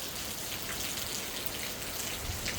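Steady rain falls in Ghana during a rainy-day roofing test, a dense, even hiss of drops with no voices over it.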